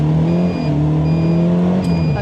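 Caterham 270 sports car, S configuration, with its engine note rising and dipping as it is changed down a couple of gears into a left-hand bend, loud and continuous from up close.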